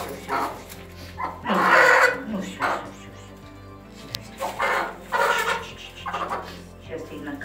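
A brooding hen settling onto a clutch of fertilised eggs gives soft clucks in a close, enclosed coop, with bursts of other fowl noise alongside and people talking quietly nearby.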